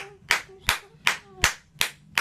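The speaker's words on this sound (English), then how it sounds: "Nor could her doctor, who clapped to test the volume of the hearing aids." A doctor testing hearing aid volume claps six times at an even pace, each clap sharp and close, with short quiet gaps between them.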